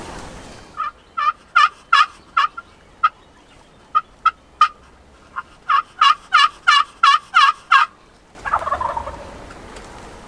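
A wild Rio Grande turkey tom gobbles repeatedly, loud rattling bursts in two clusters, followed by a brief rustling noise; no talking. Turkey hunting in Kansas.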